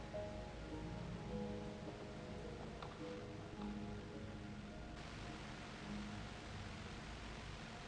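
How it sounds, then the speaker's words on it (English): Steady heavy rain hisses through a scene in the video game Heartworm, a constant broadband wash at moderate level with soft drips and faint tonal background music underneath. "Talk about heavy rain."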